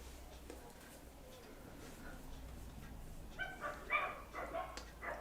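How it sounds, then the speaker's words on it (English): Several dogs bark and yip in the background at moderate distance, a scattered burst of sharp barks swelling toward the end over a quiet room tone. "Sorry if you can hear those dogs."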